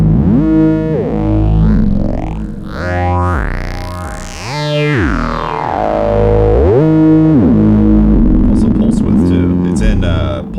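A buzzy Moog Spectravox synthesizer line through a Mimeophone delay, with sweeping, swirling echoes and pitch-bending repeats, continuous and loud, smearing notes into each other.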